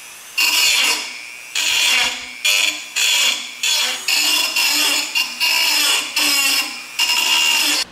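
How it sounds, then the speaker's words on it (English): Rounded ends of a homemade wooden console-controller wall mount being ground down, repeated loud rasping bursts of roughly half a second each in an uneven rhythm, close up with short pauses between strokes. "So you can see we grinded down our ends."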